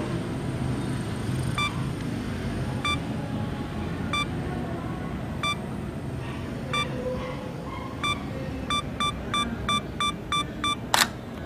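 Sony A6000 camera on a 10-second self-timer, pointed at the moon through a Tasco 900mm reflecting telescope outdoors: evenly spaced beeps that speed into a quick run, ending in a sharp shutter click over steady background hiss.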